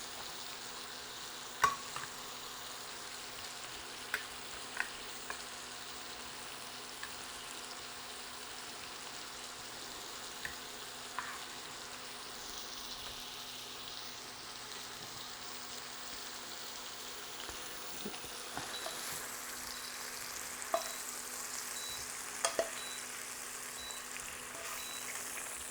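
Pork chops fry quietly in a pan, a low, steady sizzle running through the whole stretch with occasional faint ticks and pops, distant and soft.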